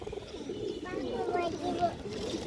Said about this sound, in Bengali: লাল মুসলদম মাদি কবুতর